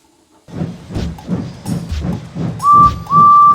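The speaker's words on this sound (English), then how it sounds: "So they lit his fire, made lots of steam, and Edward puffed away." Rhythmic chuffing bursts from a steam locomotive in a children's story, about eight in a row, puff steadily, followed by two sharp high whistle blasts.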